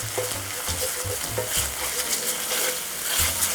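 Pork and peas stir-frying in a pan with miso paste, a steady loud sizzle broken by repeated scraping stirs of the spatula, no talking.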